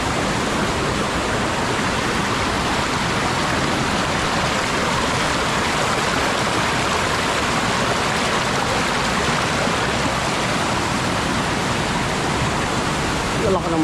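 Loud, steady rushing water from the Dumaka River beside a waterfall, a dense broadband roar that never lets up and stays close for the whole stretch, with no voices over it.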